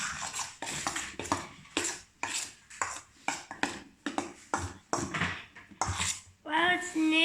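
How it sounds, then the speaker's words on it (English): Green slime mixed with activator, a run of wet squelching and slapping pulses in quick irregular rhythm, close up, ending in a brief squeak, no speech. "You just have to mix it up together."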